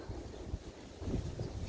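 Wind gusts buffet the microphone outdoors by a sheep shelter in blustery weather, a low rumbling rush that swells and eases over under two seconds.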